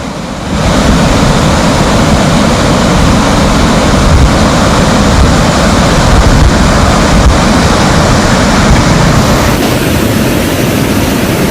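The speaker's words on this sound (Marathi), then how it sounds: "धरण ही ओव्हरफ्लो झालंय त्यामुळे आता या धरणातून मुळा धरणाकडे पाणी झेपावलंय" Water rushing out of the overflowing Bhandardara dam and tumbling over waterfalls, a loud, constant roar that carries on unbroken throughout.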